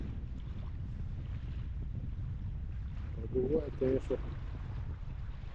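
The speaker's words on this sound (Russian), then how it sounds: "Ветер, конечно, сегодня" Steady wind blows onshore at a waterside spot outside town during a late-November fishing outing for perch, a constant low buffeting rumble across the whole stretch, with someone speaking briefly over it.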